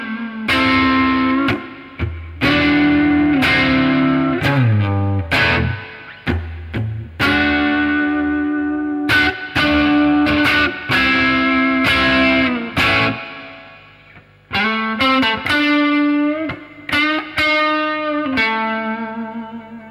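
Electric guitar played alone through a Fender Stratocaster neck pickup with a distorted, reverb-soaked tone, mixing sustained chords and single-note runs separated by brief pauses.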